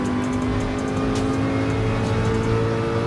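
A Group C race car engine in the video game Gran Turismo Sport roars steadily at high revs with a constant drone and faint tire noise, loud and continuous with no talking.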